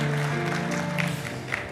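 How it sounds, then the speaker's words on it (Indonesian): A church congregation claps in a sustained patter of applause at modest volume. Steady music runs underneath the clapping. "Beri tepuk tangan buat Allah kita"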